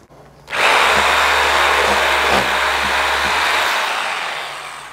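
A loud electric bone saw whines steadily for several seconds cutting through a whole lamb, with faint knocking underneath as it cuts, then winds down.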